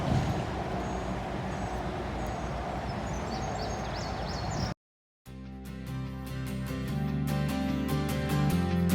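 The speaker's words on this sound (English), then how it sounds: "the noise you hear is I-40." Steady roar of Interstate 40 traffic near Davenport Gap at the edge of the Great Smoky Mountains, a continuous distant rumble that briefly cuts out, then returns with clicking and tapping on top.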